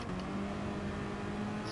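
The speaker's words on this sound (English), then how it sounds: "Really is all about that roll onto the throttle in this car" A car engine in GT Sport, heard steady and continuous with a sustained tonal whine from throttle roll-on, alone without talk.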